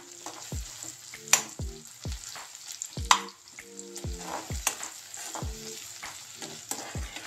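Onions sizzle and fry steadily in a pan as turmeric and chilli are stirred in, with a spatula scraping and knocking against the pan in repeated strokes; no one speaks.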